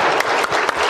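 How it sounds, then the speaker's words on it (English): Brief burst of convention audience applause in a large hall, dense clapping from many hands lasting under a second, loud and close. "This guy, a round of applause."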